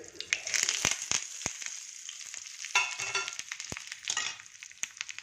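Chillies and curry leaves crackle and sputter in hot oil for tempering, with sharp pops and a fizzing sizzle close by and a spoon stirring now and then, with no talking.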